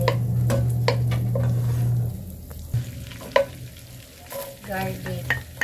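Shrimp being stirred in a buttery frying pan while making chicken alfredo, with a steady sizzle and intermittent scraping and clinking of a utensil against the pan, close by and with no talking.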